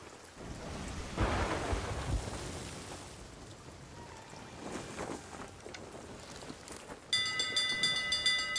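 Deep thunder rolls through a stormy sea in the pirate game Sea of Thieves, with two heavy rumbling swells over a constant hiss of wind and rain, and a bright chiming tone near the end.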